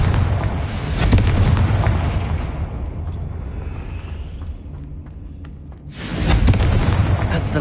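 Confringo blasting spell in Hogwarts Legacy goes off as a loud, deep explosive boom, rumbling and fading over several seconds before a second heavy blast erupts near the end.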